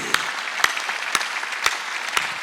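Rhythmic clapping during a church worship service, five sharp, evenly spaced claps about half a second apart over a low murmur of sound from the room.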